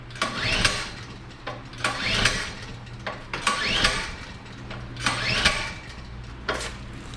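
During hurricane preparation, a small engine is pulled over repeatedly, giving five or six rhythmic, close starter-rope surges with clattering that never catch into a running note.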